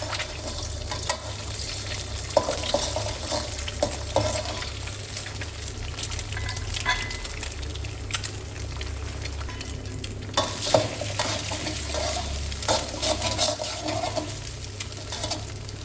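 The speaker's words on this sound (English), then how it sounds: "Add 3 raw eggs, stir a little, and let them fry." Three raw eggs fry in a tablespoon of oil in a wok over medium heat, a steady close sizzle running throughout with occasional spatula stirs and scrapes.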